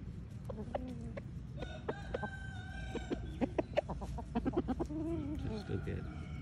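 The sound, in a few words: Ganoi aseel chickens clucking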